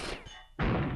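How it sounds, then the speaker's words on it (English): A grenade exploding in Rainbow Six Vegas 2, a sudden loud, close blast that cuts in after a brief lull and rumbles on to the end. "the grenade went off as soon as he ran by"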